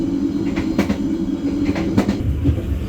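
A Bengawan passenger train runs steadily from inside the carriage, with a constant low rumble and rhythmic wheel clicks over rail joints, loud and unbroken with no voices.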